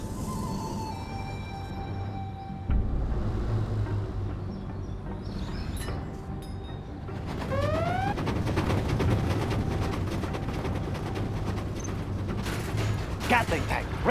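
In the game C&C Generals, a Chinese Gatling tank fires sustained rapid bursts with its barrel spinning, a loud dense rattle of gunfire that carries on steadily with short whirring sweeps.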